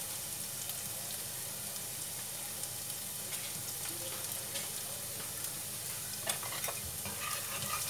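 Lemongrass sautéed in a pan for a braised vegetarian rib dish, a soft continuous sizzle with occasional scraping stirs and light clinks, moderate and close, with no talking.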